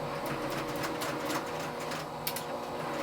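A sewing machine stitches a pinned four-patch quilt block at a slow, careful pace. It gives a continuous, moderately loud mechanical hum with a light ticking rhythm and a brief click near the end, with no voices.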